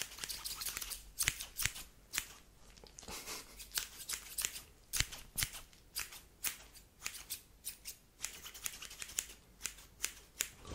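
Two pairs of scissors snipping at once near the ear in an ASMR hairdresser roleplay, giving quick crisp metallic cuts in a steady, busy rhythm that runs without pause and with no talking.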